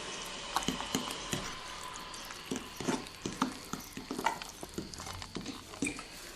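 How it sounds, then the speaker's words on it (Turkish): Cornmeal and flour dough for pastries being stirred in a bowl, a steady run of soft scraping, wet squelching and light clinks from the utensil, close and fairly quiet with no talk. "Biraz daha un ekleyelim ve karıştırmaya devam edelim."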